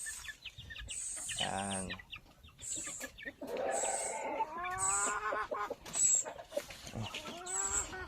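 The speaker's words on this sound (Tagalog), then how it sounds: "Ayan yung mga sisiw." Chicks and hens on a farm keep up a steady run of high peeping and lower clucking, close and fairly loud, with a short spoken word over the flock.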